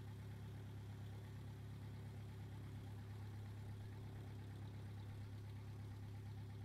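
Steady low rumbling thrust from a spacecraft's rocket engine in Kerbal Space Program, a continuous droning hum at constant loudness with no breaks and no voices.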